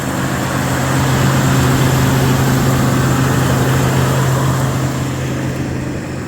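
A farm service truck engine with a new battery idles steadily and close by, a continuous low hum with a smooth, even drone for the full stretch and no talk.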